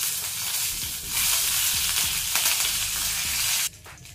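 Red lentils, dried red chillies and curry leaves frying in hot oil give a steady, close sizzle with crackling pops, cut short by a sudden drop near the end.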